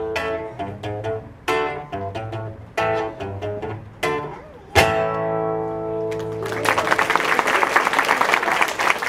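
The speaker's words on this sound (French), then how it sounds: "les enfants, vos applaudissements me font chaud au cœur" Children at an ADACS Christmas show break into applause after musical notes end, a dense, lively clatter of many small hands filling the hall.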